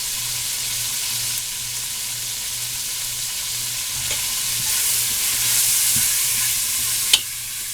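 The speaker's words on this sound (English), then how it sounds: "I just want to get a nice brown sear on it." Beef chuck roast searing in a pan, giving a steady loud sizzle with a faint low hum beneath and one sharp clink near the end, no talk.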